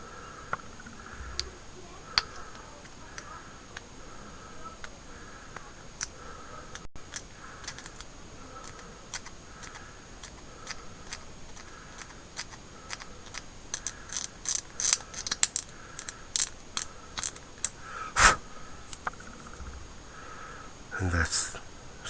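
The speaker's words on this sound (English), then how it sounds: "A little bit of extra scraping away." A dull hobby blade scrapes a seam line on an Italeri 1/35 scale plastic tank model, a series of short, close, quiet scratchy strokes growing more frequent toward the end, with a voice talking at times.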